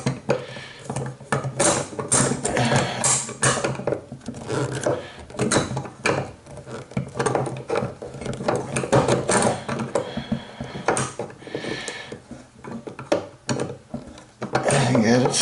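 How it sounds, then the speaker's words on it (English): A wrench and channel lock pliers work a brass faucet seat nut up close, with irregular metallic clicks, scrapes and ratcheting knocks over a long stretch, someone talking intermittently over them. "I'm going to go underneath and hold the bottom of that thing with my channel lock"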